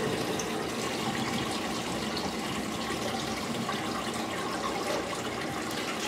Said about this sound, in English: A power out test is done by unplugging the main water pump and allowing the water levels to drain and settle.